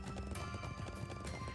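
Horse hooves clip-clop at a steady trot in Trails Into Reverie, a brisk rhythmic patter of footfalls over background game music, with no talking.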